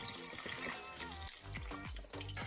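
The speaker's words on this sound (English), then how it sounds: "So what you can do is just fill up the container so that the water can also get any left remnants of the beef broth" Tap water runs steadily into an emptied 32-ounce beef broth carton for beef stew, filling it up with a continuous splashing, gurgling flow that rises in pitch as the container fills; no one speaks.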